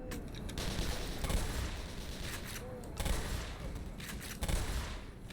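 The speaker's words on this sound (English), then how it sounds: "I can't shoot fast enough to get them all." Sustained bursts of gunfire in the shooter game Black Mesa, rapid overlapping shots and thuds in a loud, busy firefight, with louder volleys every few seconds.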